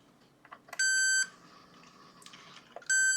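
A toy ferromagnetic substance detector from a Maxitronix 20-in-1 electronics kit gives two short electronic beeps about two seconds apart, near and clear, with faint handling clicks between them.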